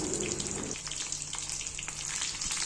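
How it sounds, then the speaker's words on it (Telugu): Dried red chillies and garlic fry in hot oil for a tempering, giving a steady, close, bright sizzle and crackle that continues without pause. "ఇలా ఎండుమిర్చి వేసుకున్నాక అవి ఫ్రై అయ్యాక వెల్లుల్లి వేసుకోవాలి."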